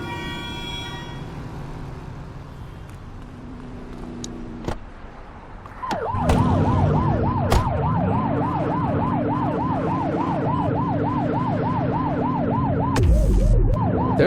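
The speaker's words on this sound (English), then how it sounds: "Turn that siren off." A video game police car siren starts up after a quiet stretch, wailing in rapid rising and falling cycles, loud and close, over an engine hum.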